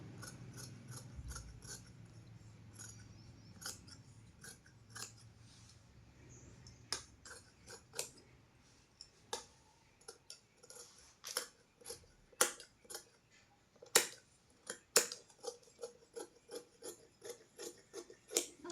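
Scissors cut blouse fabric close by, producing rapid clusters of crisp snipping clicks that start sparse and become denser and louder, with no talk throughout.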